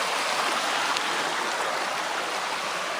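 A creek runs steadily beside a stone wall in Central Victoria gold country, its broad, even rushing wash close and continuous with no break.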